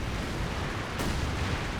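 A Company of Heroes 2 incendiary artillery barrage sounds as a low, rumbling wash of distant blasts, with one sharper crack cutting through the middle of the short burst.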